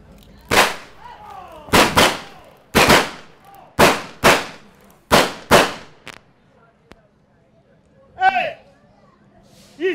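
Blank gunshots in a staged Western-style gunfight, six sharp loud cracks in quick succession, each with a short echoing decay, followed by a pause and a shouted voice.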